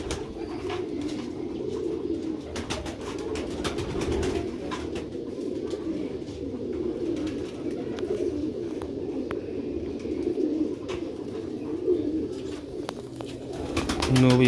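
Black-faced Sheikh breed pigeons cooing in a loft, a continuous low murmur of overlapping coos with occasional wing flutters and clicks, fairly close.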